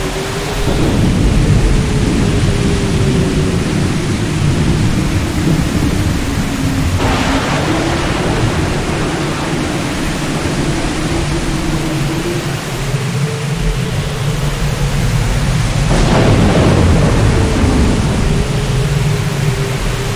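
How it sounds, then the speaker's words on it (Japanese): A violent nighttime storm at sea pours down heavy, unbroken rain beneath a moaning wind. Two loud thunderclaps crash in, one near the middle and one later, over the continuous roar. "その夜は予想通りに暴風雨となりました"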